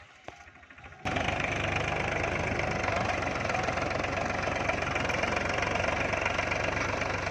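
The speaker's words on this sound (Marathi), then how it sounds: "ट्रॅक्टरनं धसकटं काढणं चाललेले" A tractor engine runs steadily and loud in a field, pulling equipment that clears crop stubble before maize sowing. It starts abruptly after a quiet second and then keeps up a continuous knocking diesel drone.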